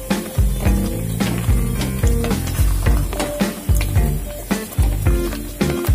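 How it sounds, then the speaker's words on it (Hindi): Milk gravy for chicken changezi bubbles and hisses in a pan, a steady close sizzle broken by regular knocks and scrapes of stirring. "एक दो मिनट इसको बॉईल होने देंगे।"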